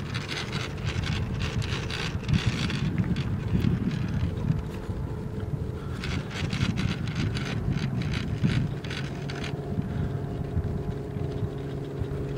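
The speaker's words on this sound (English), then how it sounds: "I'm going to see if I can get some audio of what I'm going to call gear noise" Mechanical whir and gear noise from the tail of a T700N DFC gas-powered RC helicopter conversion before flight, a steady close drone with rattling, rhythmic chatter and some wind buffeting.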